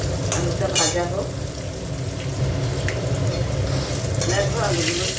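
Turmeric-and-salt seasoned potatoes sizzle steadily in hot oil close by, with occasional stirring scrapes and clinks over the continuous frying hiss.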